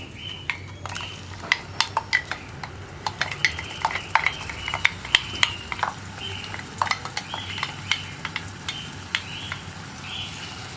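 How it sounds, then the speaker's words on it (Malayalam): Crushed onions frying in hot coconut oil for a spicy egg fry, with sharp scrapes and clinks of a spoon against the pan over a soft, steady sizzle, close and fairly quiet. "അപ്പോൾ നമ്മുടെ വെളിച്ചെണ്ണ ചൂടായി വന്നിട്ടുണ്ട്. നമുക്കിതിലേക്ക് നമ്മൾ ക്രഷ് ചെയ്ത് വെച്ചിരിക്കുന്ന സവോളയൊക്കെ ചേർത്ത് കൊടുക്കാം."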